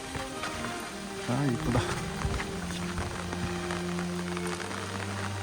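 Steady rain patters down throughout a mountain hike on Hanusan during a heavy rain warning, a continuous close hiss with a brief voice speaking over it.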